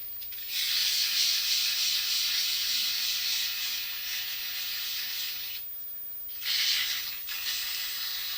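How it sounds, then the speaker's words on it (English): Sandpaper rubbing against a turned wooden apple on a lathe, a steady bright hiss that runs for several seconds, breaks briefly, then returns in a shorter burst; no speech. "I'm ashamed to admit how much of my shaping is done with sandpaper."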